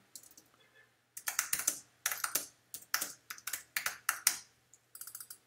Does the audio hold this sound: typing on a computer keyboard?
yes